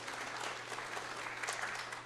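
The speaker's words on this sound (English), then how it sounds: "It's always a good sign when they applaud before you speak." Congregation applauding during a church service, steady dense clapping across the whole stretch at moderate level, no voices over it.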